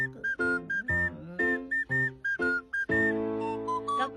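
A person whistles a bright, melodic tune in short phrases with brief gaps, then holds a longer sustained passage near the end, clear and close with no talking.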